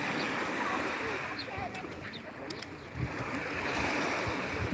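Sea waves washing onto a pebble beach with clear water, a continuous loud surf roar with some wind buffeting on the microphone and brief faint voices in the background.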